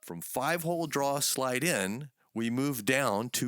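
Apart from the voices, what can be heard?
None of the usual background noises is heard.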